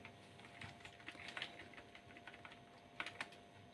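Fast keyboard typing while entering Arduino code on a computer, a steady run of light clicks with a few louder clustered keystrokes, close and fairly quiet with no talking.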